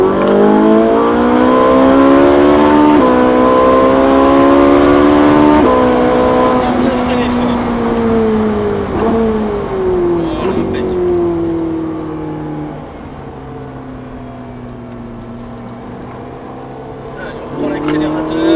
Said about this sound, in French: on peut descendre un rapport et réaccélérer